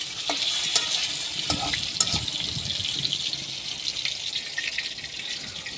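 Chicken meat lightly frying in a pan, a steady soft sizzle with scattered scraping stir clicks, close and continuous, no voices.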